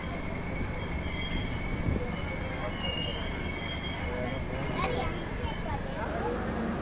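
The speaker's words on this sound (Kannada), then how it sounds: "ಹದಿನೈದು ನಿಮಿಷ ಡಿಲೇ ಆಗಿ ನಮ್ದು SMT ಸೂಪರ್ ಫಾಸ್ಟ್ ಎಕ್ಸ್ಪ್ರೆಸ್ ಈಗ ಎಂಟ್ರಿ ಆಗೈತೆ ಚಿತ್ತೂರಿಗೆ" The SMT superfast express pulls into Chittoor station with a steady rumble of rolling wheels and faint high squeals, and a voice talks over the noise.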